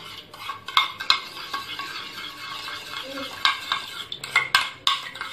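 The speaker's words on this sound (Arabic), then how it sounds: "هنقلبهم ونخلطهم ببعض كويس، تمام، بالمعلقة كده" A spoon stirs a vinegar mixture in a container, giving repeated clinking scrapes and taps against the sides in uneven bursts, close and fairly clear.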